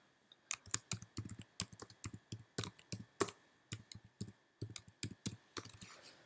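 A file name typed on a computer keyboard: crisp, close key clicks in a quick uneven rhythm, with short pauses between bursts and a few louder strikes, and no voices.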